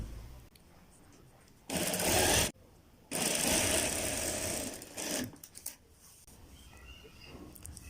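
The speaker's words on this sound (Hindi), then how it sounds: "इस जगह पे सिलाई लगा लेनी है" A sewing machine stitches a folded cloth strip for a child's kurta in two loud, rapid runs separated by a pause, followed by brief shorter bursts and quiet handling of the fabric.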